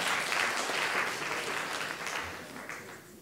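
An audience claps steadily and fully at a school film-competition award ceremony, the applause dense and sustained, then slowly thinning toward the end.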